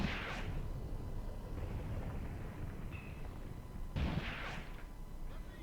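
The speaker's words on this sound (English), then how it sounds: "the other tank is covering it by shooting in the direction of the anti-tank gun" A tank firing its gun toward an anti-tank gun in Graviteam Tactics, heard as two distant booming shots about four seconds apart, each a brief sharp blast with a trailing rumble, over a low ambient drone.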